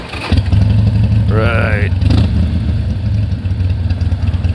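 Harley-Davidson Sportster 1200 Custom with an aftermarket exhaust rumbles close by in a steady, deep idle, with a brief throttle blip partway through and a few words spoken over it.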